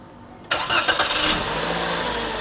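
A Daihatsu Ayla car engine cranks and fires up abruptly, then settles into a steady, fairly loud idle that continues to the end.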